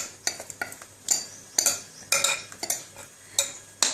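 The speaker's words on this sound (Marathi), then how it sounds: "आता या मिश्रणात हळूहळू हळूहळू हे टाकत राहायचं आणि हलवत राहायचं" A spoon or utensil stirs a pearl millet flour mixture in a pot for bajra papad, producing repeated close scraping and clinking strokes in an irregular rhythm, with no talking.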